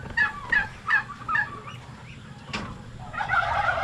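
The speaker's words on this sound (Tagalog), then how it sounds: "May mga pabo na naglimlim." Turkeys at a backyard farm with brooding hens give several loud rapid gobbling bursts, then a fainter call and a rougher, honking fowl call near the end.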